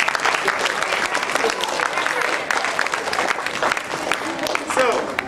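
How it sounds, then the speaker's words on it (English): Audience applause at a science energy demonstration, dense steady clapping from a crowd throughout, close and loud, with some voices mixed in. "Let's give it a round of applause"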